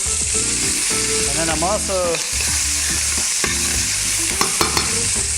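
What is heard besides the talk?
onions sautéing in oil in a pan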